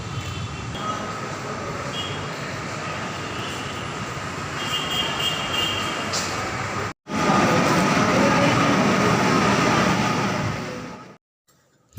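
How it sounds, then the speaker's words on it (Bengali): Steady rumbling roar of a Kolkata metro train in motion from Sector Five, heard from inside, with a brief cut to silence midway before the noise resumes and fades. "তো সেক্টর ফাইভ থেকে মেট্রো ধরে আমরা রওনা দিলাম"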